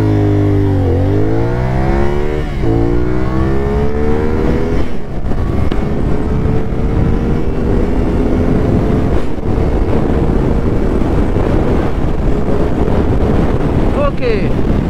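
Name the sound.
CFMOTO 450SR motorcycle accelerating from 0 to 100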